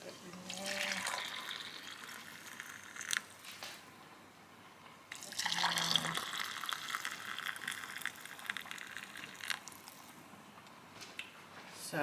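Hot tap water runs into a jar in bursts, a broad steady rush that stops and restarts, with faint drips and clinks between pours and some background movement.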